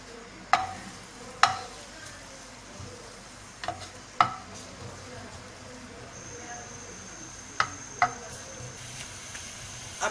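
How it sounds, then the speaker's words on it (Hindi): Chopped garlic fries in olive oil, a soft continuous sizzle with occasional sharp clicks and pops at irregular intervals, fairly faint and close, with no talking. "अब इसमें हम ये चॉप किए हुए लहसुन के जवे डाल रहे हैं।"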